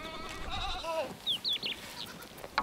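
Cashmere goats of a herder's flock bleating, several high wavering calls overlapping at moderate distance over a steady outdoor background, with no talk.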